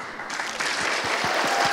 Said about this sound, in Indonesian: Kita akan memulai voting ini dengan tepuk tangan dari kalian.